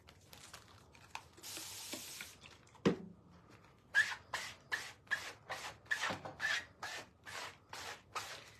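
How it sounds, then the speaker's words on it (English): A board eraser rubs a sticky transfer sheet clean for DIY earrings, giving a string of short, even scrubbing strokes up close that follow some earlier scattered rustling and handling noises. "Take our board eraser, clean this off, flip it over."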